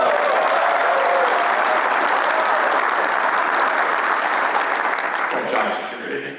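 Loud, full applause sweeps through a crowd at a lawn care business event and holds steady before tapering off at the end, with some voices mixed into the clapping.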